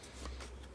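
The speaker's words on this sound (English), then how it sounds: "we're going to shuffle these and start over because there's not a lot of these cards" A quick riffle of Star Wars: Outer Rim board game cards being shuffled close up, a brief papery flutter with a small snap at the end.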